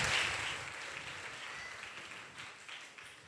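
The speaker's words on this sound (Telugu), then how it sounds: "కాబట్టి మనం చప్పట్లు కొట్టాలి." Audience applause fills a church during a golden jubilee celebration in Yellandu, Khammam: a steady, fairly faint wash of clapping that gradually tapers off over a few seconds.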